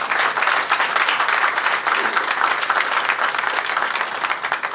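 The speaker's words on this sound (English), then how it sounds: "So let's give them a round of applause as well" Steady, dense applause from an audience at the Washington Informer newspaper's grand opening at Dulles International Airport, loud and sustained throughout with faint crowd murmur underneath.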